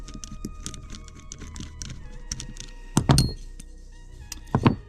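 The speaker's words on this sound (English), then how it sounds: "All you have to do is unscrew this." A check valve is unscrewed by hand from a Keihin CDK2 carburetor. Small metallic ticks and clicks come at close range, followed by a couple of louder handling clunks.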